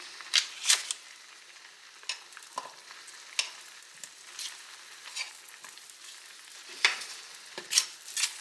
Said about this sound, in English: in the same pan back here that I cooked my onions in, I'm going to be putting 2 to 3 tablespoons of butter